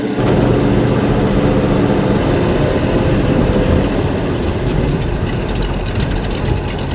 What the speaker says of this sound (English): We'll take it on a normal test drive, and again we have a 1970 Chevrolet Nova SS L78, numbers matching with 4-speed